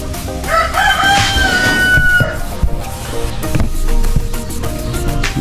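A rooster crows loudly nearby amid clucking chickens at a layer poultry farm, with clattering and knocking sounds from the cages.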